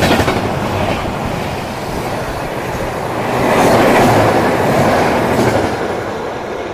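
The Tapti Valley Superfast Express, an Indian electric train, passes close by with a loud continuous rumble and clickety-clack of wheels over rail joints, swelling slightly midway and holding steady throughout.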